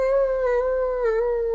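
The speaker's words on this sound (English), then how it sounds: "We got a little long howl for Michelle Marshall." A long, steady dog-like howl used as a live stream alert sound, one sustained tone with slight pitch wobble and rich harmonics, loud and alone.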